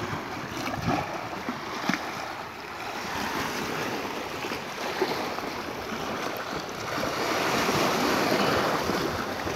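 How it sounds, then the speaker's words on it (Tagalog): Ocean surf roars continuously with wind buffeting the microphone at Dammam Corniche, the waves swelling louder toward the end. "lumalakas-lakas ang alon ah"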